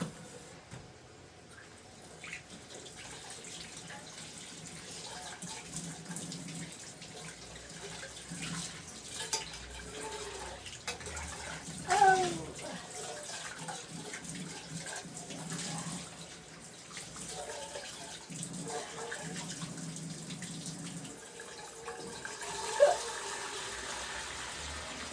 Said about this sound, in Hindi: इसमें थोड़ा सा पानी चढ़ाते हैं हल्का सा।